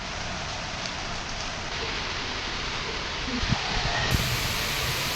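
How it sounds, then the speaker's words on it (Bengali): Steady rain pours down in a dense, even hiss, with a few faint knocks near the end and no voices. "এমনই বৃষ্টিটা চলে এলো"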